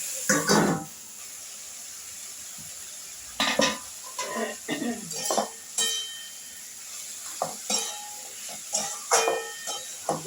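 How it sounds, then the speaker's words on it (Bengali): A lid being placed on a cooking pot of ridge gourd and potato curry in a home kitchen: clanks and metallic knocks in irregular bursts over a faint simmering hiss. "এবার আমি ঢেকে দেবো, তরকারিটা সেদ্ধ হয়ে যাবে।"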